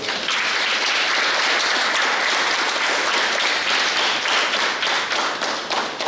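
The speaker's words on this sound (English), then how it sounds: "I'd like you to acknowledge our cleaning staff, please, with a round of applause" A school assembly audience gives a round of applause for the cleaning staff at Santa Flora Government Primary School, a dense, continuous wash of many clapping hands at steady, fairly loud level for several seconds.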